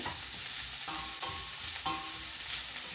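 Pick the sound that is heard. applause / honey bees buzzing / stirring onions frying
stirring onions frying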